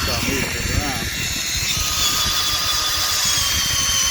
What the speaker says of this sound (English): then I gotta go back again with the drill